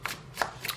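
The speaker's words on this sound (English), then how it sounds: "I'm gonna live shuffle this tarot deck now" A tarot card deck is shuffled in three quick riffling bursts, close and soft, with no talking.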